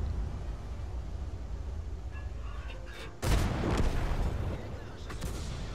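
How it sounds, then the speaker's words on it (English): In the tank video game World of Tanks, the tier 7 Sturer Emil tank destroyer fires its gun once, a sudden loud boom that rolls off over a couple of seconds against steady engine and battle rumble. "Here I am using the gun good rate of fire to shoot at the OI side."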